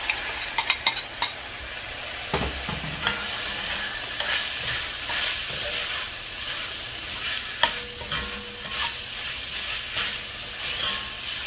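Ground beef being stirred back into a hot pan over medium heat for Irish meat hand pies, a steady close sizzle and hiss with scraping stir strokes and a few sharp utensil knocks, no talking.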